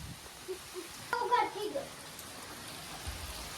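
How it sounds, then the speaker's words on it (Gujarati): Heavy rain pours down on a farm during the groundnut harvest, a steady, soft hiss with a brief voice partway through. "વરસાદ બહાટી બોલાવે છે"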